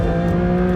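A 2024 Porsche 911 S/T engine drones loudly and steadily up close, its pitch holding a steady whine as the revs settle between gears.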